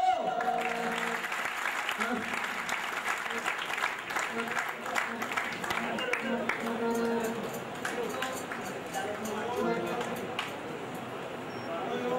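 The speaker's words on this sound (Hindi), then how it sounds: "तालियां बजा दो" Audience applause at a stage ceremony during a trophy event, continuous clapping from a crowd throughout, mixed with talk and background music.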